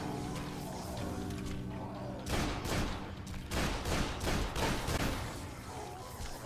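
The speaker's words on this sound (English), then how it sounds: "I'm shooting the small one." A burst of gunfire aimed at a zombie in Dead Island: a rapid string of sharp, close shots packed into a few seconds, set over a steady game background hum, with a voice talking faintly nearby.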